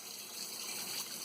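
Hot water runs from a home kitchen tap for making bread, with the heater turned down. A steady, close hiss of flowing water plays alone with no talking.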